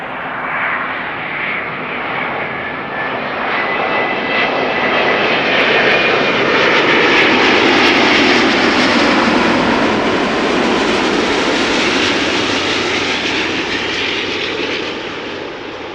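At Amsterdam Schiphol Airport, an airliner takes off from the Buitenvelderbaan runway with a loud, broad jet roar that swells steadily, peaks, and then fades slowly as the plane climbs away.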